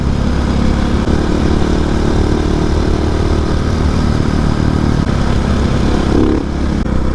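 Husqvarna 701 motorcycle engine running steadily while being ridden, a loud, continuous close-up drone with a faint change near the end.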